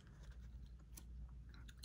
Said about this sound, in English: pardon me if I'm chewing my gum extra obnoxious today